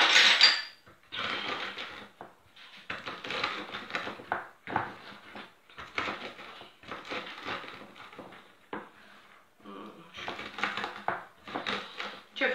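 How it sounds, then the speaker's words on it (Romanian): Roasted walnuts are ground by hand against a kitchen strainer. Close, repeated rasping and crunching scrapes come in uneven bursts with short pauses, and no one speaks. "Și ia să măcinăm nuca. Nuca este prăjită."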